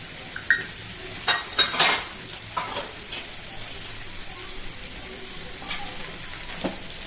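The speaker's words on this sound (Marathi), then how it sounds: "शेंगदाण्याचं कूट, तेलात छान मसाले कूट भाजून घेते." Onion, sandge and Kolhapuri masala fry in hot oil, a soft continuous sizzle broken by several sharp clinks and scrapes of a utensil against the pan.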